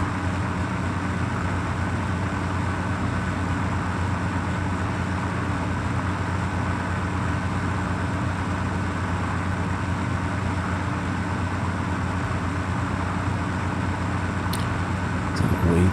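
An automated truck in the video game Satisfactory drives along with a steady, droning engine hum and rolling road noise, constant and moderately quiet throughout.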